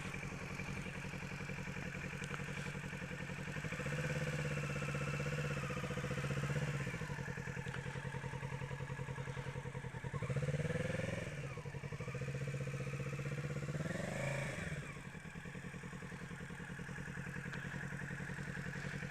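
A motorcycle engine runs steadily close by during slow U-turn practice at a riding lesson, its mid-pitched hum rising and falling in revs several times as the bike turns, with no talk over it.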